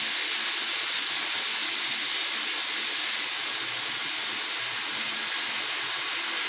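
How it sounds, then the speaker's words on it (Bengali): A pressure cooker cooking goose meat lets out a loud, continuous high steam hiss that stays steady and close throughout with no talking. "এবার প্রেসার কুকারটা 7খানা সিটি দিতে হবে"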